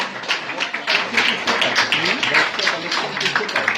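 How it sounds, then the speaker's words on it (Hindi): Steady rhythmic applause from an audience at a business meet, many hands clapping close together, with voices mixed in. "तालियां"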